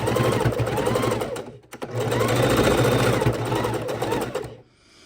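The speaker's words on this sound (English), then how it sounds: "So I'm going to line these up, and we're going to sew across." A sewing machine runs in fast, steady bursts as it stitches a seam across a fabric bowl holder, loud and close, briefly pausing before whirring on again and stopping near the end.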